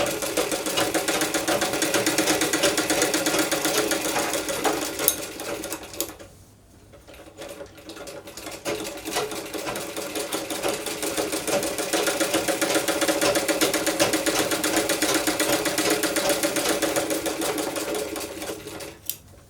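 A sewing machine runs a decorative fancy stitch along a toddler's A-line frock, giving a steady, close mechanical whir that dips briefly in a short pause before running on. No one speaks.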